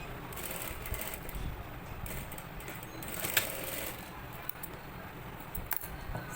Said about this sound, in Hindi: शेप के हिसाब से सिलाई लगानी है